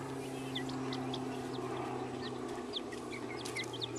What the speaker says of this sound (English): There's the baby silkies.